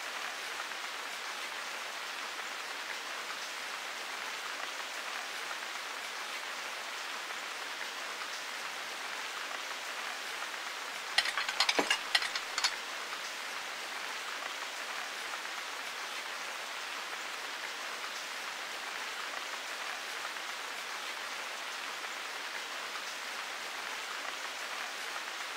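Steady rain in the video game Sword Art Online Hollow Fragment falls as an even, continuous hiss with no voices, broken briefly near the middle by a short burst of crackling clicks.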